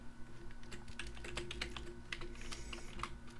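Someone types a short entry on a computer keyboard in a quiet room, a quick run of light, close key clicks at an uneven rhythm with no speech.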